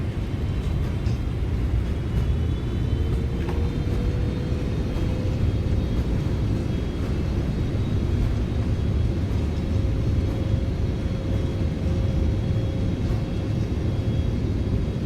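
A Boeing 777F in a flight simulator rolling out after landing with reverse thrust, a steady heavy engine roar and rumble with a faint rising whine, continuous and loud with no talking.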